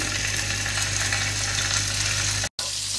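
Ginger garlic paste sizzles and crackles in hot oil for a tadka, a steady close frying hiss that runs evenly and breaks off briefly near the end.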